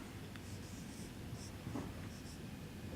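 Chalk or pen scratching out an equation during a lecture on matrix equations, a faint, steady scraping with small taps, set against a constant background hiss and hum.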